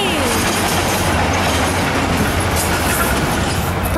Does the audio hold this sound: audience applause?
no